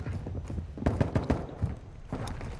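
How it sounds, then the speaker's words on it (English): Footsteps in the video game Warzone, a quick run of soft irregular thuds with short pauses between bursts. "I hear a lot of footsteps"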